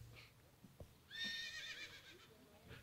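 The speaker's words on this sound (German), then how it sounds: "das ist das Wiehern der Gladbacher Fohlen" A recording of Gladbach foals neighing plays as a single bright, quavering whinny in the middle, with faint thuds and room noise before and after in a quiet hall.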